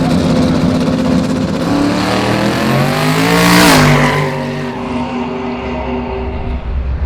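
A drag race car at Roadkill Nights, built by Richie Franklin, roars loud and close as its engine note climbs, peaks with a sweeping rise, then drops away when the driver lifts off the throttle.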